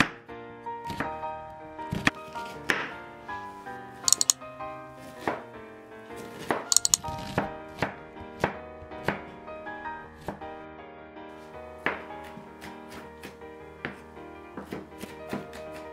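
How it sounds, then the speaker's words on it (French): A knife chops onions into small pieces on a board, with quick, irregular close taps in a steady working rhythm, each cut a sharp click, with no voices. "Vous aurez besoin de 500 g d'oignons ou 4 oignons moyens. On les coupe en petits morceaux"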